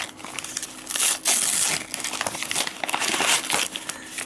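Waxy wrapping paper from a gashapon figure box crinkles and crumples close to the microphone, a busy run of crackling rustles with louder bursts, no speech.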